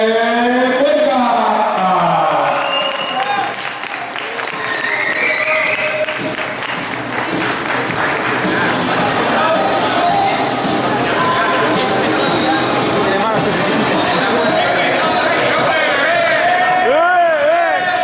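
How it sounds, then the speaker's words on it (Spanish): A crowd at a karting championship awards ceremony gives a long, steady ovation for the overall winner of the under-75-kilo category, with dense applause mixed with loud amplified voices throughout. "recibimos con una fuerte ovación al campeón absoluto de la categoría menos 75 kilos, Miguel Cuenca."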